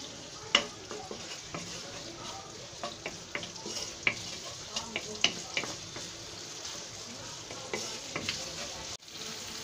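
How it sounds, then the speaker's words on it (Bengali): Frying for a home-made chicken chap gives a soft, steady sizzle broken by frequent small pops and utensil clicks. It is close but quiet, with no clear talk. "এবার ভেজে নিচ্ছি।"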